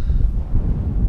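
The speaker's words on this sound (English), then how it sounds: "Oh, bloody wind's picked up." Wind gusting across an open fell summit, The Calf in the Howgill Fells, buffeting the microphone as a steady low roar with uneven surges throughout the short moment, with no other sound.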